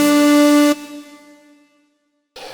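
A brassy, buzzy techno lead synth note from an Elektron Analog 4 sounds loud and sustained, then a quieter tail lingers and fades to silence before a short noisy burst returns.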